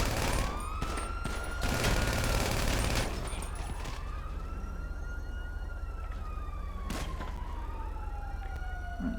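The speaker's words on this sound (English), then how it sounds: "So here comes a police car." Police car sirens wail loudly in GTA, rising and falling sweeps layered with a burst of rapid gunfire and sharp shots in the opening seconds, then a steady siren whoop continues with occasional single bangs.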